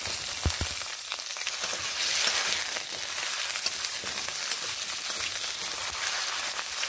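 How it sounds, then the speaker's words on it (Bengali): Potatoes frying in hot oil in a kadai, a steady close sizzle and crackle with faint pops throughout and no voices. "কড়াই বসিয়ে দিয়ে একটু তেল গরম করে নিলাম। এবার এখানে আলুগুলোকে ভেজে নেব।"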